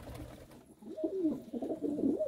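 A red pigeon coos close by, a single rolling, warbling phrase of low throaty notes rising and dipping against a quiet background.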